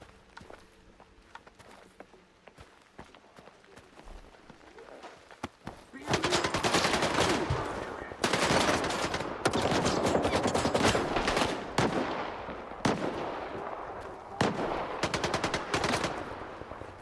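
Gunfire rings out in the video game S.T.A.L.K.E.R. 2: Heart of Chornobyl, quiet scattered shots and footsteps at first, then loud sustained bursts of automatic fire with short pauses between them.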